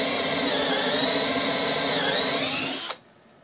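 A TopShak TS-ED1 cordless hammer drill whirs steadily at high speed, close and loud, its pitch dipping slightly before it cuts off abruptly into silence.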